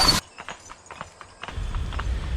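Draft horses pull a big load of round hay bales up a rural road, their hooves clip-clopping in a steady, moderately close rhythm over a low rumble of the moving load.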